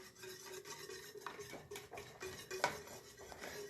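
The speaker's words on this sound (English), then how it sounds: "right now it just looks like I'm whisking the darkness" A whisk scrapes and clinks against a bowl while gingerbread batter with molasses, brown sugar and egg is mixed, a quiet, irregular rasping with metallic taps, close by and without talk.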